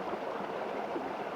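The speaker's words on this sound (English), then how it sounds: "Listen to the beautiful sound of that water." Jemez River in New Mexico running at a remote evening campsite, a steady, close rush of flowing stream water with constant gurgling and no voices over it.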